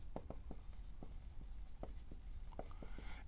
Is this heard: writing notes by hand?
yes